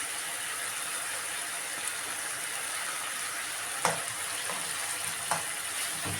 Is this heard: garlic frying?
yes